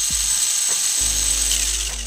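Tamiya mini4wd with an intact propeller running, a continuous close whirring, buzzing motor and gear drone with a high whine, steady throughout.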